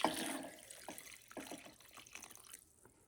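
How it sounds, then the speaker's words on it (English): Water pours into a crockpot holding pork and green chile, a steady splashing stream that is loudest at first, then thins into trickles and drips before stopping. "pour some water in there"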